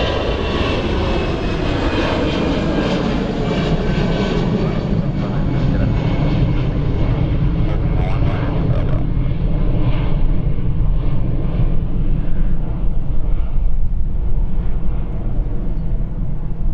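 A Fly Pegasus airliner with 180 seats taking off at Stansted Airport, a loud sustained jet roar that holds steady and slowly fades as the aircraft climbs away, with no talking over it.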